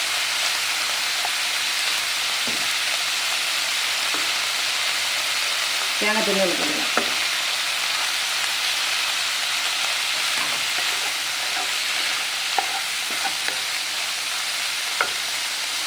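Green beans with grated coconut, dal and a pinch of asafoetida being stirred and fried in a pan, giving a steady soft sizzle with occasional spoon scrapes, while someone talks over it.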